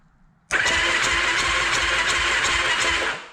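A Yamaha YFZ450 quad engine cranks and fires abruptly, then runs loud and steady for about three seconds before cutting off, heard up close with no talking.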